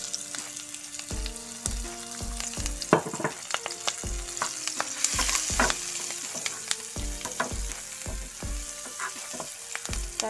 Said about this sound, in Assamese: এনেই তেলতে দি দিম টুকুৰা টুকুৰ কাটি লোৱা পিঁয়াজখিনি।